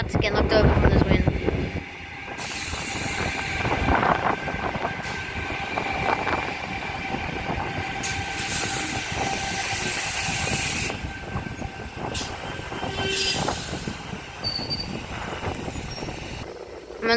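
A T26 passenger service to Waterfall pulls away from platform 1 at Wollongong station with a steady rumble and whining tone. Strong wind noise mixes in, and it sounds close.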